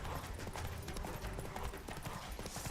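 In The Witcher 3, a horse gallops with quick rhythmic hoofbeats, fairly quiet and continuous over a few seconds with no voices.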